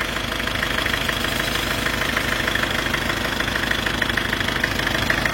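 A 1994 Isuzu Panther engine idles steadily at close range, a continuous mid-pitched rumble with a fine rhythmic knock and vibration throughout, no voices over it.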